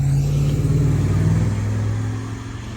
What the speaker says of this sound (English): I love how loud those trucks are.